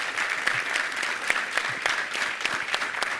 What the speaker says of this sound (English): Let's round of applause for Leslie.